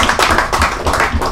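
A small group claps for Barnabé, a 24-year-old, in a short burst of clear, close applause without any speech.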